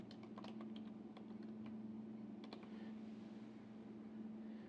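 Typing on a computer keyboard while setting up an ioSafe 151+ network storage drive, producing quiet irregular key clicks in short bursts over a steady low electrical hum, with no talking.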